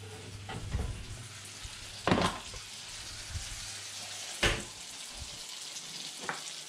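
Steak searing on an outdoor grill or pan beside vegetables, a steady low sizzle broken by a few sharp bursts of crackling and spitting, with no voices.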